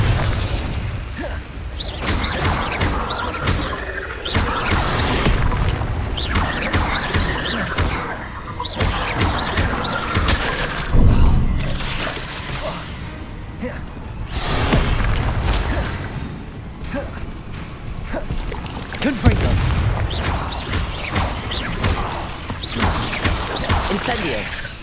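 Incendio and Confringo spell blasts cast in Hogwarts Legacy combat, a dense, continuous stream of loud crackling bursts, booms and mechanical clatter, with sharper impacts standing out now and then.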